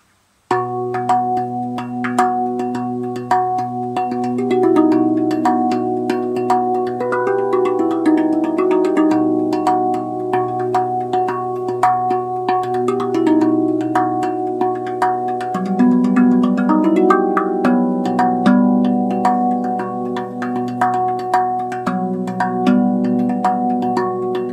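A RAV Vast Onoleo steel tongue drum plays a slow melody of bell-like, ringing notes that overlap and sustain. It is heard close and steady for about 25 seconds with no talking.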